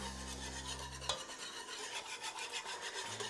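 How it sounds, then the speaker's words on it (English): Quick scraping and swishing of a whisk stirring flour roux into chicken stock gravy in a pan, a close, quiet rasping rhythm that briefly follows a low hum and carries on with no talking. "So we just want to whisk this around to make sure that our roux gets in there."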